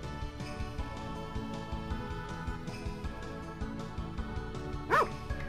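A dog in the video game Harvest Moon: Back To Nature barks in repeated short yaps over steady game music, with one sharper, brighter bark near the end.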